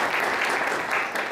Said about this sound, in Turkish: Evet, alkışlayacaktınız.